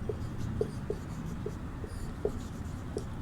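Pen or pencil strokes scratch across paper as an answer is written, faint close scratching with small regular taps, in a quiet room without talk.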